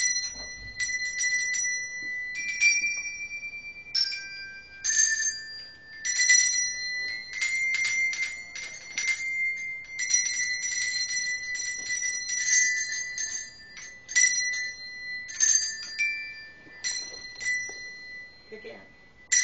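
A simple melody chimes out on small bright bells, notes tapped in quick bursts with short pauses between phrases.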